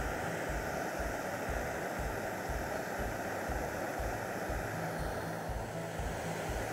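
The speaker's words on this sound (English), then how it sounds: "it's been nearly 2 minutes and my water's pretty much boiling" Water rolling toward a boil in a Jetboil MiniMo gas stove on full flame, a steady dense rushing roar with a low bubbling churn underneath, close and continuous throughout.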